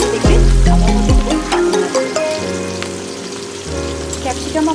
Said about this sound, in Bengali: ক্যাপসিকাম আমার ভাজা ভাজা হয়ে গেছে